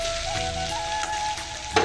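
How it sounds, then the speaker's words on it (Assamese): Pointed gourd, potato and chickpeas fry together in a pan, giving a brief, even sizzle close by. A small stirring clatter comes near the end. "পটল আলু বুট এনেকৈ অকণমান ভাজিছোঁ"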